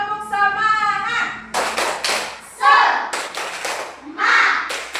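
A class of children in a Catholic religious education lesson claps through the tepuk semangat chant, sharp hand claps and taps in a quick pattern mixed with young voices chanting.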